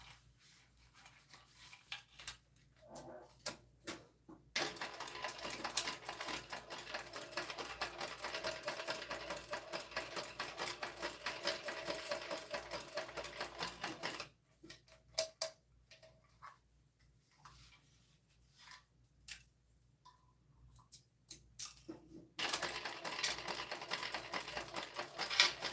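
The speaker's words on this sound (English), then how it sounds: "I'm just going to stitch everything down so it stays." A sewing machine stitching down a gusset piece on a pack. There are two long bursts of fast, even stitching with a brief stop between them, quick stop-start runs in the gap, and a final burst at the end. The sound is fairly faint and close.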